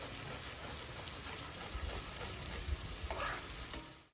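Homemade masala fries in plenty of oil in a pan for stuffed eggplant over a wood-fired stove, making a dense, continuous crackling sizzle close up with a few faint scrapes.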